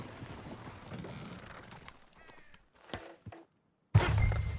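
Horse hooves clip-clopping in the video game Red Dead Redemption 2, arriving in a few uneven bursts with short pauses between them and a louder burst near the end.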